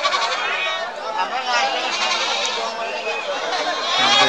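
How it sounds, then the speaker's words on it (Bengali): Goats and sheep bleat repeatedly at a busy livestock market in Bangladesh, their calls layered over a constant crowd murmur and nearby chatter. "যারা এই ছাগলগুলো কিনতে এসুক তারা আসবেন আমাদের এই হাটে"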